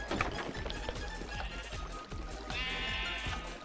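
Sheep bleating in the video game Minecraft, a wavering bleat standing out over a busy game backdrop of steady rhythmic thuds and clatter, with a second bleat near the end.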